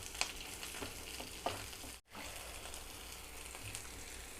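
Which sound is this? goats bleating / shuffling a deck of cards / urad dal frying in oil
urad dal frying in oil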